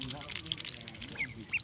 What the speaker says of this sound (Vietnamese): Đấy, đàn vịt 20 con.